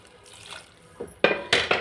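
Water is poured into a pressure cooker holding brinjal with peanut masala, heard as a faint trickle at first, then sharper splashing gushes near the end.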